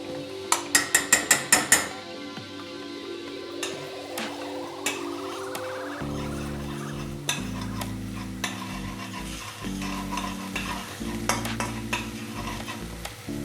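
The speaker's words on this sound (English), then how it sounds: "Seeds and ginger are kind of sizzling and releasing a nice fragrance." Seeds and ginger sizzling in a hot pan while cooking Indian palak paneer, a constant close frying hiss with sharp clinks of a utensil at the start and rhythmic stirring and scraping knocks throughout.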